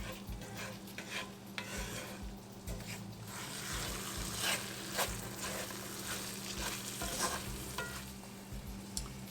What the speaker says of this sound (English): We're just going to cook the onion until they get nice and translucent.